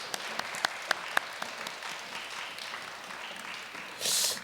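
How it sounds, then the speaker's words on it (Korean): A room full of people at a church blessing festival claps in a steady, dense patter for several seconds, with a few sharper claps standing out near the start. "큰 감사의 박수 부탁드리겠습니다"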